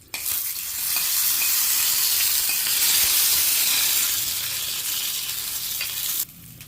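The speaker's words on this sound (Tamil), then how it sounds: "சட்னி தாளிச்சு" Chutney being tempered in hot oil for a morning idli breakfast, a loud steady sizzle and crackle that swells right after the start and holds for about six seconds before cutting off sharply near the end.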